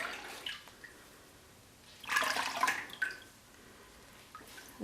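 Wet pre-soaked wool roving is gently squeezed by hand, releasing a few soft drips and trickling splashes, with one fuller burst of running water in the middle, close and quiet.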